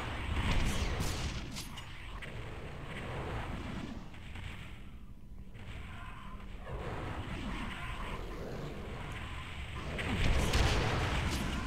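Rockets firing and exploding in a brutal first-person shooter game, a continuous barrage of booming blasts and rumbling detonations, dense and loud with a brief lull midway.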